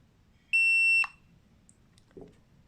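A single sustained electronic beep, bright and clean, sounds from a Mata T2 tire pressure monitor as it enters settings mode, followed by a faint click or tap in an otherwise quiet room.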